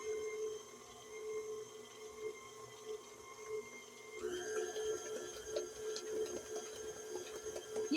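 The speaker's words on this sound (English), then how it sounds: "we'll blend this well" A blender whirs steadily while mixing a cheesecake batter, a continuous motor drone that grows louder and busier partway through, with no talking.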